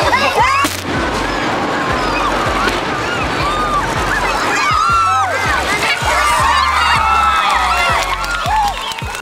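A large outdoor crowd of spectators watching a high-rise building demolition cheers and shouts continuously, with scattered whistles and a few sharp bangs standing out above the dense roar.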